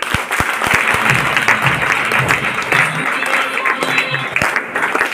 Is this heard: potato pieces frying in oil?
no